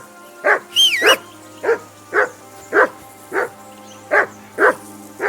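A dog in Kingdom Come: Deliverance II barks repeatedly, about nine loud, close woofs in a steady rhythm roughly every half second, with a brief higher whine mixed in early on.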